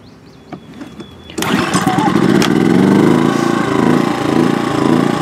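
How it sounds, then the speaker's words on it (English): An inverter generator cranks and fires up after a few quiet clicks, then settles into a loud, steady close engine drone that rises and falls slightly in speed. "turn it to run fire up the first generator"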